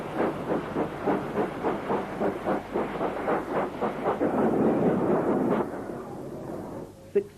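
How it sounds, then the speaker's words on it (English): Thompson B1 steam locomotive 61044 pulling out of Sheffield Victoria Station, a steady series of strong rhythmic exhaust chuffs that merge into a continuous roar, then fade, ending with a single sharp bang. "This is Thompson B1 460 locomotive number 61044, leaving Sheffield Victoria Station."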